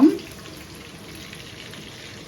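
Mutton keema frying in a pan gives a soft, steady sizzle with a brief louder clatter at the very start; no voices.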